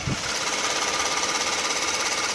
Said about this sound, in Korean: 영상에서 들리시는 것과 같이 굉장히 정숙하고 규칙적인 엔진 사운드 들려주고 있고요